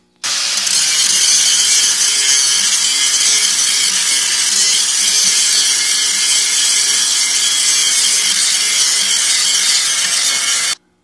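Welding a patch onto a Ransomes mower deck gives a continuous loud crackling hiss that starts abruptly and holds steady for about ten seconds, close by with no talking.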